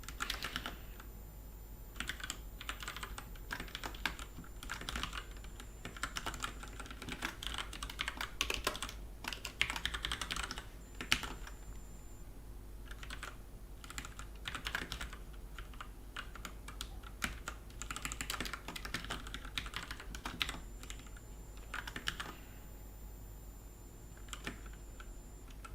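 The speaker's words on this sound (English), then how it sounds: "That's the red cherry buttons, keys," Steady, quiet typing on a mechanical keyboard with Cherry red switches, rapid clusters of soft key presses broken by brief pauses, close and alone over a faint hum.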